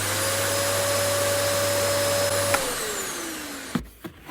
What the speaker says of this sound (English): clean and vacuum your house more